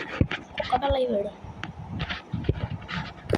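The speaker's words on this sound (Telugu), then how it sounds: "సేమ్ కుక్కపిల్ల" A small puppy pants and whimpers close by in short, uneven bursts, mixed with people talking over it.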